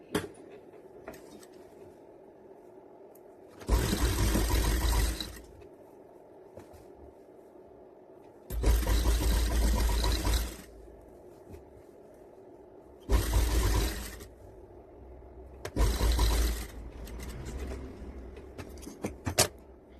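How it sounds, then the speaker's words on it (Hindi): A sewing machine stitches the seam of a farshi salwar in four separate bursts of several seconds each, loud and close, with quiet pauses between runs. "सेम इसी तरीके दूसरे साइड भी हम इसको सिल लेंगे।"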